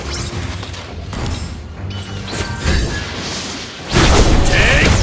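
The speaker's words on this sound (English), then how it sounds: "You destroy the turret!" A turret being destroyed in the Mobile Legends: Bang Bang video game: crashing booms and thuds from the game, with a louder burst of explosion near the end, over game sounds.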